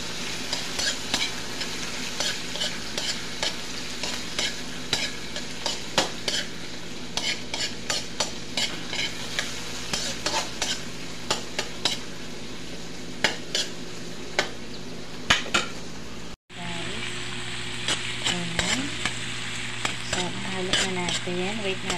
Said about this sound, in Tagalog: ilalagay na natin yung kamatis para masabay sa sibuyas ang pagluto